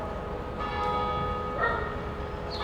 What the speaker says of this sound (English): a town that has, you know, the church bells